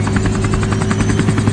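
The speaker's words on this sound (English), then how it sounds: "This is my first time in a helicopter." A helicopter in flight roars steadily and loudly from inside the cabin, its rotor thumping in a constant rapid pulse throughout.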